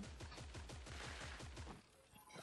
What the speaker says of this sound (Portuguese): Opa, tiro aqui perto